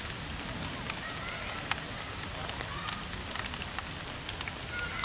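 Rain falls steadily on an outdoor park during a yoga class, a dense continuous patter with scattered louder drops.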